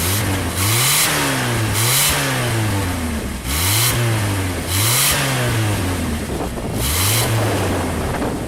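A Jeep engine revs repeatedly in rising and falling surges, about six loud pulls over roughly eight seconds, with heavy wind noise throughout.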